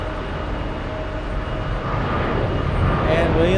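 American Airlines flight 66, a heavy jet departing JFK, builds as a loud, swelling engine roar with a rising whine as it powers up for takeoff.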